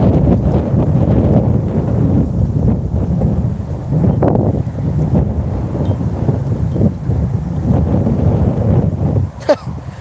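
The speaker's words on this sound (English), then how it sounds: "The tripod almost got blown over by the wind." Strong wind gusts outdoors roar steadily and loudly into the microphone, buffeting hard enough to nearly topple a camera tripod, with a brief sharper gust near the end.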